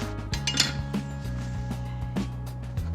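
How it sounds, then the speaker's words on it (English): A baking dish of fish paella pulled from the oven, with a few metallic clinks and knocks over a steady low oven hum. "Let's get it out of the oven."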